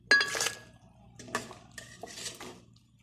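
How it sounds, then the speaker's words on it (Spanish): Cooked red pepper mixture is transferred into a blender jar, giving a few sharp clinks and knocks of utensils against the jar with soft wet sloshing between them, close and fairly loud, with no talking. "Ya por aquí tenemos lo que cocinamos y llevamos al vaso de la licuadora."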